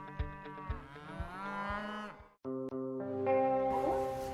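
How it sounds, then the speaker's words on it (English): Cattle at an animal rescue centre in New Delhi, with several loud, close moos, one long drawn-out call followed by another deep, sustained low, carrying a slightly echoing, processed quality and no speech. "Lots of cows."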